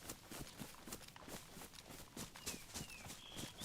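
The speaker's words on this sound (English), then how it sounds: "I feel like I hear my footsteps behind me a couple meters" Footsteps in the video game DayZ, a steady run of soft, regular steps at a walking pace, fairly faint, with faint high chirps and ambient game sound in the background.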